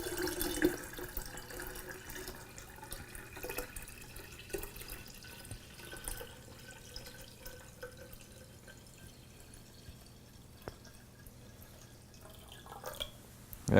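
Cold filtered water is poured into a glass brewing jar of sweet tea for kombucha, a soft continuous trickle and splash that stays fairly faint and steady throughout with no talking.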